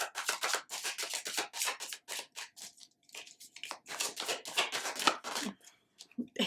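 Tarot cards being shuffled by hand, a run of quick papery riffles and flicks in close bursts with brief pauses, no talking.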